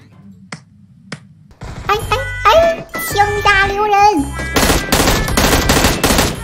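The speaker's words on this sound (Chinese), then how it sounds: "小厕所后面有枪声" Gunfire in the battle-royale shooter PUBG: a few sharp isolated reports, then a dense stretch of rapid shots mixed with tonal game sounds and music-like tones, ending in loud repeated bursts.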